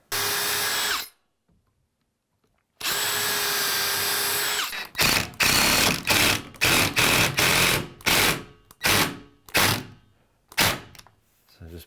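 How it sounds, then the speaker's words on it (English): A power drill drives screws into hardwood countertop banding, with two long steady whines followed by a rapid series of short, loud bursts as the screw is pulsed into the dense wood. "I'm gonna put screws in because that is kind of cracking right there."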